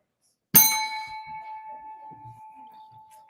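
A single bright notification bell ding sound effect, a sharp struck onset followed by a clear ringing tone that slowly fades with a gentle wobble, heard alone without talk.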